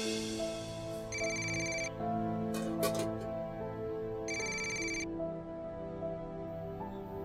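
A telephone rings with an electronic melodic ringtone: a sustained tonal pattern broken by two bright bursts of rapid high chirps, heard clearly and alone without any voices.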